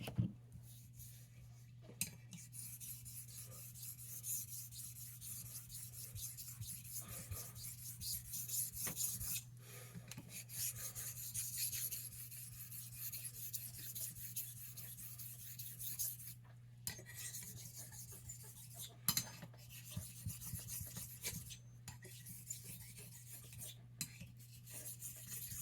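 A steel blade is rubbed back and forth on a King 1K whetstone, giving a steady, quiet, gritty rasp in continuous strokes over a low background hum, with a few light taps and no talking.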